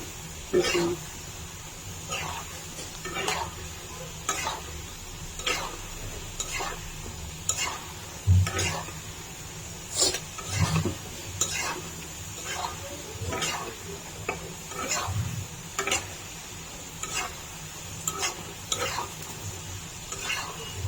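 French fries sizzle softly in hot oil while a utensil scrapes and taps the pan in a regular stirring rhythm, with a person talking over the cooking.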